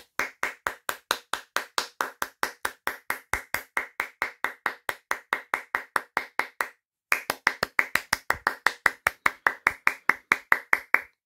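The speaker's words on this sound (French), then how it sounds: "je vais faire plein d'applaudissements à Lego pour le coup" Steady hand clapping, loud and close, a long run of sharp even claps with a brief pause near the middle before resuming, given in praise of a LEGO Star Wars set, 75389 The Dark Falcon.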